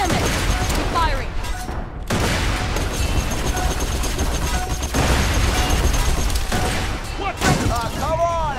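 Continuous Borderlands 2 video game gunfire and explosions make a dense, loud roar that fills the whole stretch, with voices shouting over the combat.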